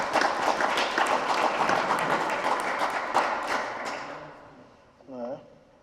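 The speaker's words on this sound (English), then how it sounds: "Give yourself a big round of applause." An audience at an economic prosperity forum breaks into dense, lively applause that gradually fades out over a few seconds, followed by a brief voice at the end.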